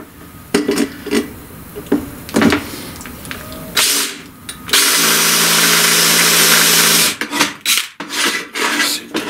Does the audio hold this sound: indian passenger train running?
no